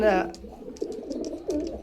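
Pakistani Royal Teddy pigeons coo in a series of low, soft, rounded calls close by, following a brief burst of talking at the start.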